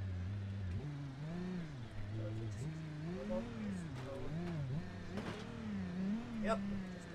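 A car in the BeamNG driving game, its engine note climbing and dipping as it drives and then eases off to slow down, loud and close throughout.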